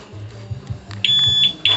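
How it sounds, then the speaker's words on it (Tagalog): A two-way alarm installed on a Honda ADV 160 scooter gives short, sharp, high-pitched beeps, repeating several times over a low pulsing rumble. "Ayan o, mag-a-alarm po siya."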